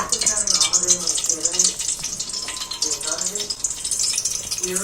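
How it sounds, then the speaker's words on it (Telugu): Cumin seeds sputter and crackle in hot oil during tempering, a steady broadband sizzle running throughout, with voices talking faintly underneath. "ఆయిల్ అయితే అక్కడ పట్టు పట్టుమని చెప్తుంది గైస్ తర్వాత జీలకర్ర"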